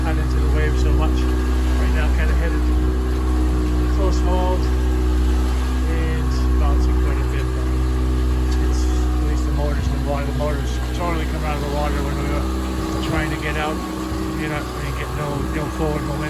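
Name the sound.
outboard motor running on a boat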